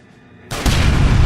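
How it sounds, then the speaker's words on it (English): A loud, abrupt explosion boom in the video game L.A. Noire: Complete Edition on PC. It bursts in after a quiet stretch and rolls on heavily until the clip ends. "look at those PS3 explosions"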